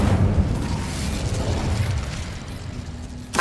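Incendio fire spell cast in Hogwarts Legacy, a dense roaring whoosh of flame that fills the whole moment, loud and close, with a sharp burst at the very end.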